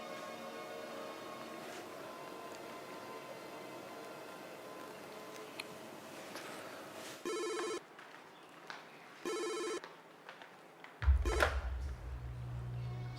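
A telephone rings in a domestic setting with several distinct bursts of electronic ringing, separated by short pauses and rising over a quiet background of voices and household sound.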